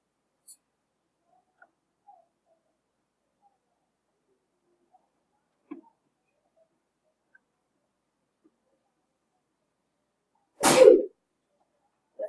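A single sharp sneeze, near and loud, breaking an otherwise nearly silent stretch with only faint scattered ticks.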